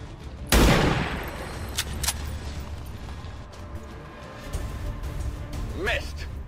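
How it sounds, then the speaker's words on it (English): Soldiers firing on an enemy in XCOM 2, one sharp loud shot followed by several quicker cracks, then quieter gunfire and a whooshing sweep near the end, with talk running underneath. "everyone, just pummel him with bullets"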